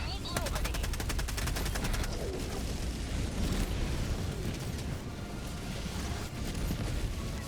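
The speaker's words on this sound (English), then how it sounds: "Rocket Sentry doing a fair bit of work there" Rocket Sentry turret in Helldivers 2 firing during a battle, a dense, loud barrage of rapid bursts and explosive booms that continues throughout with no pauses.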